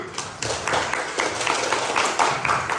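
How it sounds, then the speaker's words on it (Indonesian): Classroom students clap after a pupil's answer, a short burst of scattered, fairly close claps with some uneven individual hits, quieter and thinner than a large crowd. "Tepuk tangan."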